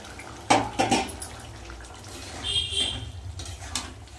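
Fried lentil fritters being dropped into leftover dal simmering in a pot: a couple of soft splashy plops near the start, then gentle bubbling and faint clinks of a utensil, close and fairly quiet.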